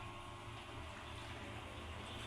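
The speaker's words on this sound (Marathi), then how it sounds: "भांड्यात थोडं पाणी टाकून" Water pours into a cooking pot of fried masala for methi bhaji, a steady soft rush with a low hum underneath, continuous and without talk.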